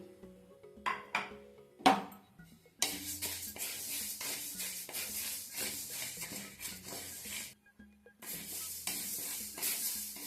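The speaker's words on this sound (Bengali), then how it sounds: "এইবারে আমি মুগ ডালটা ভেজে নেব।" Mung dal dry-roasting in a hot wok, bursts of rattling, scraping stirring with short pauses between them, a few loud knocks early on.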